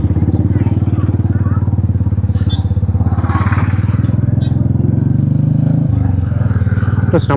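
A motorcycle with a replaced, modified silencer idles and revs with a loud, deep, throaty exhaust burble that holds steady throughout, dipping briefly near the end before picking back up.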